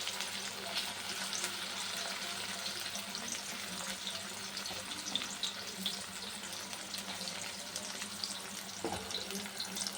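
Food frying in a pan at home for an evening meal, a steady, even sizzle hissing throughout at moderate distance, with no talk.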